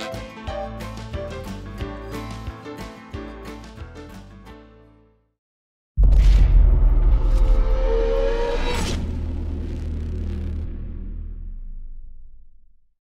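A motocross bike ridden in a backyard roars up loud and close after a short silence, its engine revving higher midway before the throaty drone slowly fades; rhythmic music plays before it.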